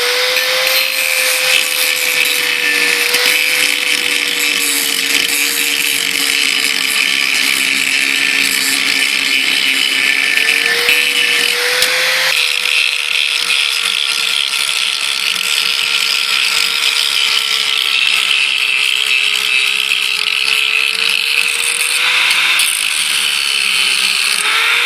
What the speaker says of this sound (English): So we're going to start grinding now.